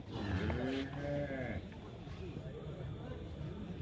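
A cow lets out a loud, drawn-out moo at the Gabtoli livestock market. Murmuring voices and general background bustle continue underneath and afterward.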